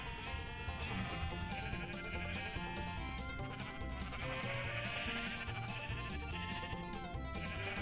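Minecraft sheep bleat repeatedly in a dense overlapping chorus, steady and moderately loud throughout with no talking.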